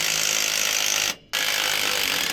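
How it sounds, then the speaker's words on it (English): A power tool, probably an impact wrench with a 14 mm socket, drives out bolts on a Hino Ranger truck's drum brake assembly, a loud close whir that stops briefly and then restarts. "14 mil socket to take these out."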